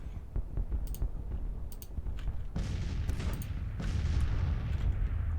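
Artillery fire in the Civil War strategy game Grand Tactician rumbles in the distance, a series of muffled booms and crackling volleys building into a denser roar, alongside scattered soft clicks.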